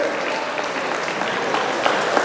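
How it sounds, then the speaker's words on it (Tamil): Audience applause at a Drug Free Puducherry public event welcomes a guest to the stage, an even, sustained roar of clapping from many people with faint crowd murmur beneath. "இந்த சதீஷுடைய தாய் தகப்பனுக்கு எங்களுடைய எல்லோரும் ஒரு கரகோஷத்தை கொடுங்கள்."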